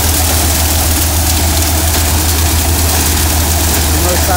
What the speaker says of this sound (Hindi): देख सकते हैं इधर एक ट्रैक्टर लगा है और इधर एक ट्रैक्टर लगा है